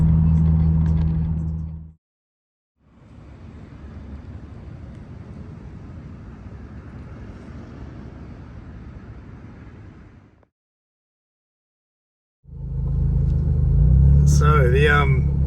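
A Mazda MPS car drives along with a steady mid-pitched engine rumble and road noise, framed by brief pauses and a person talking at the start and end.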